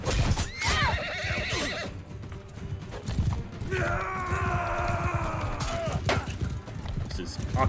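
In the Mount and Blade Bannerlord video game, horses whinny loudly several times over a steady clip-clop of galloping hooves and battle clatter, with no clear talk.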